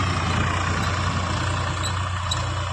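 A tractor engine idles steadily in a BT cotton field during furrow work, a continuous low diesel rumble with no break and no voices.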